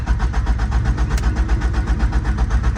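A custom 1989 Honda CRX Si, just back from a tune-up and alignment, cranks without starting: a fast, even, pulsing starter churn heard close and loud for the whole stretch, with no catch.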